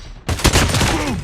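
Gunfire from a shooter video game: a sudden burst of loud, rapid shots erupts after a brief quiet moment and rolls on densely for about a second.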